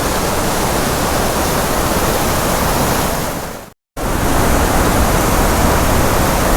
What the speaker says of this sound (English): And here we go, about to show you the next waterfall